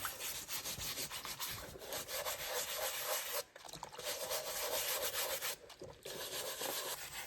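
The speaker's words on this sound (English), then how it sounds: "And start brushing away." A soft brush scrubs an Arc'teryx outdoor hat soaking in soapy water, giving steady close wet rubbing and swishing strokes with two short pauses.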